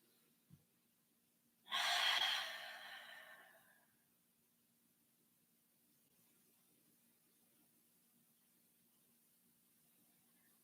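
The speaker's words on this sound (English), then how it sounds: "3 more breaths here." A long, loud exhale or breath sweeps in once and fades over about two seconds during a threaded-needle yoga pose, preceded by a soft tap, then near silence.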